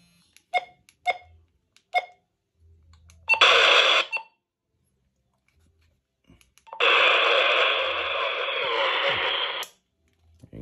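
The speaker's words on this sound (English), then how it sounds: "So that's the weather." Motorola Talkabout T800 two-way radio receiving a weather broadcast: a few short beeps, then two bursts of loud, dense broadcast audio from the small speaker, with near-silent gaps between them.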